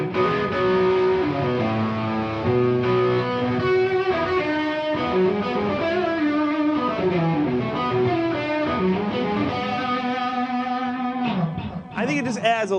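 A dirty, distorted electric guitar through a tube tremolo pedal plays sustained chords and melodic lines with a slow wavering pulse, loud and continuous, ending on a brief bright strum.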